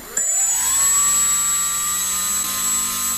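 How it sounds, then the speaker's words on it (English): Small electric motor of a radio-controlled model plane on a Flysky FS-i6 setup, spinning up and holding a steady, loud, high-pitched whine close by with no talking. "I'm going to start the motor. You'll hear it."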